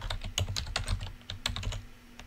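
Close, quick typing on a computer keyboard, with a rapid irregular run of crisp key clicks over a low steady hum and no voices.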